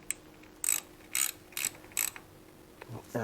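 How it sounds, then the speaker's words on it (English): A ratchet snugs the oil drain bolt on a Harley-Davidson Pan America motorcycle, heard as four short bursts of rapid clicking a fraction of a second apart, close and fairly quiet, with no talk. "Just thread that up in there and just snug that drain bolt up."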